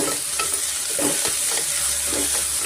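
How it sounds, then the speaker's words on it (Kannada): Tomatoes and mixed vegetables fry in oil in a pan, giving a steady close sizzle with occasional stirring scrapes and soft clatter, and no talking. "ಟೊಮೆಟೊನು ಸ್ವಲ್ಪ ಸಾಫ್ಟ್ ಆಗಬೇಕಾಗುತ್ತೆ ಅಲ್ಲಿವರೆಗೂ ಸ್ವಲ್ಪ ಒಂದು ಎರಡು ನಿಮಿಷ ನಾವು ಫ್ರೈ ಮಾಡ್ಕೊಳ್ಳೋಣ"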